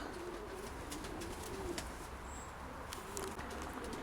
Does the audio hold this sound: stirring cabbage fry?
no